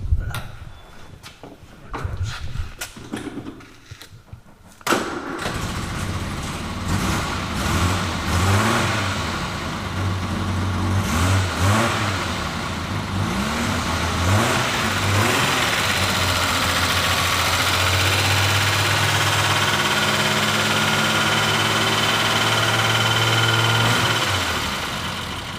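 A car engine cranks with a few rough, stuttering tries, then catches around five seconds in and settles into a loud, close idle with repeated revs rising and falling before easing off near the end.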